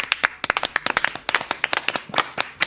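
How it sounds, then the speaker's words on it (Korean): A small group claps to welcome a guest, with crisp, separate hand claps falling in an uneven scatter, close and fairly loud with brief gaps between them. "정대택 선생님 박수로 맞이합니다"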